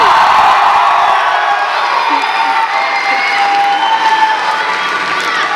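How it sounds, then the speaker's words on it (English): A graduation crowd at a high school ceremony yells, whoops and cheers in a loud, sustained roar that carries steadily throughout, with mixed voices shouting over one another and no pauses. "You can yell and scream now."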